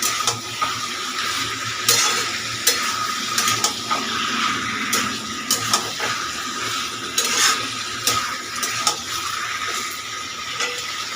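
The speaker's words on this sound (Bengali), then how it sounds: "এবার এখন হাত ব্যথা করে করে সমানে কষিয়ে যেতে হবে তবেই তো টেস্টটা বেরোবে" Mutton is stirred and sautéed in a wok, a continuous sizzle with repeated scraping strokes of the spoon at an irregular rhythm, close and fairly loud.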